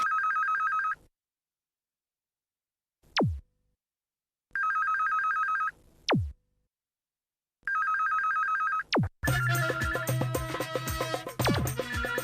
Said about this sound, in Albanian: Shof që më ka marrë Meksi në telefon.